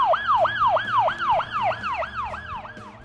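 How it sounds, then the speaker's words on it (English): Police car siren wailing in a fast, regular up-and-down cycle, about ten sweeps in quick succession, loud and close with faint engine rumble underneath. "Police car."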